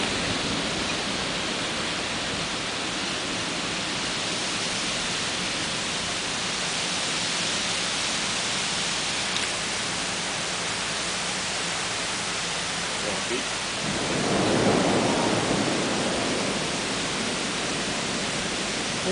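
A heavy summer rain downpour in Quincy, a dense steady hiss of falling water that swells louder near the end, with wind in the background and no clear talk.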